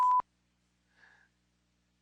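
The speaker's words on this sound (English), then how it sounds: "There's some beeping." A short, sharp electronic beep sounds at the start, followed about a second later by a fainter, brief tone, then quiet.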